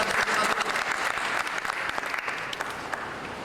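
An audience at a gathering claps together in a dense, continuous burst of applause that fades slightly toward the end.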